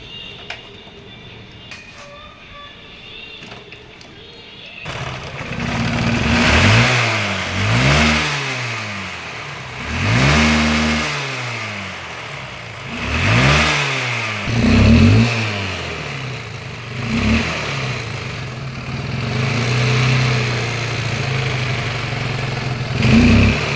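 A Hero Xtreme motorcycle with an altered CDI unit idles quietly, then its engine revs hard in about five rising and falling bursts, loud and close, settling back toward idle between each.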